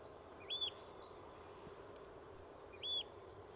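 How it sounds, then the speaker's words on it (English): Birds singing outdoors in scenic Edinburgh, Scotland: two short, bright, tonal calls about two seconds apart, clear and fairly near over a quiet background hiss, with no talking. "Birds are cracking on with a bit of song."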